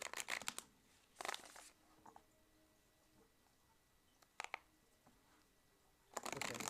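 Tarot cards being shuffled by hand in several quick riffling bursts, close and crisp, separated by near-silent pauses in a quiet room.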